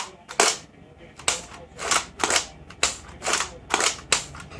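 A Nerf toy gun fires repeatedly in a rapid, even rhythm of about eight sharp snapping pops, close to the listener and fairly quiet overall.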